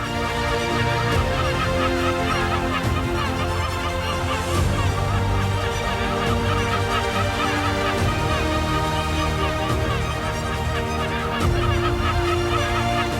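A loud, continuous chorus of honking geese and other waterfowl, many calls overlapping without pause, close and dense.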